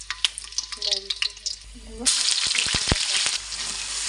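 Bay leaves dropped into hot oil in a cooking pot, someone talking briefly before a sudden loud sizzle bursts up and settles into steady frying with a few clinks.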